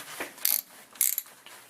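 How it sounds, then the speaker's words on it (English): A ratchet tightens the bolts on a vehicle differential cover, giving two quick bursts of rapid metallic clicking, close and distinct, with no talk. "once you get all your bolts in, just take your ratchet and"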